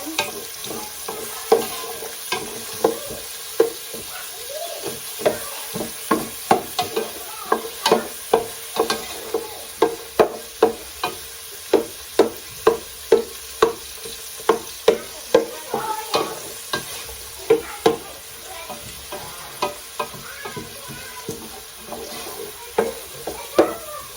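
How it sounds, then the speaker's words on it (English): Onions frying in a pan as they brown toward golden and crisp, with a steady sizzle broken by a regular series of sharp scraping clicks from a utensil stirring them, close and fairly loud, no talk. "We're going to let them onions get brown, nice golden brown."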